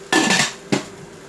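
A lid set onto a metal cooking pot holding washed almond leaves for tea gives two clanking impacts, a longer rattling clatter then a shorter knock, close by.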